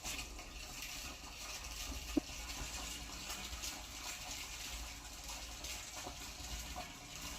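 Water flows steadily into a small rooftop water tank, a soft continuous gush and trickle with a couple of faint knocks, heard alone at low level.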